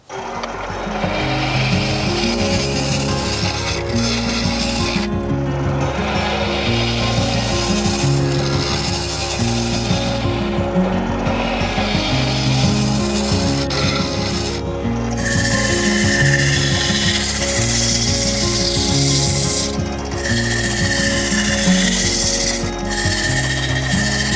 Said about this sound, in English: Now what I'm going to do is just take some clean, light passes just to make it easier to sand in there.